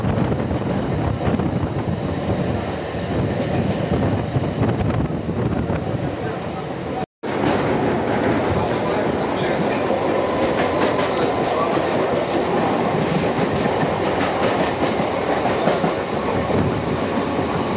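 Local train on the Howrah–Bardhaman chord line, running steady and loud from inside the carriage with continuous rumble and wheel clatter, broken by one brief dropout midway, with voices faint beneath it.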